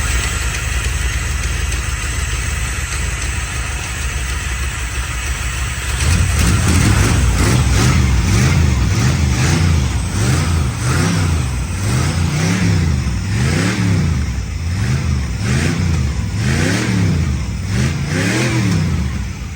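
A 1975 Chevrolet Corvette engine running on its own fuel supply, loud and close: a rough idle at first, then repeated rhythmic revs rising and falling in steady waves.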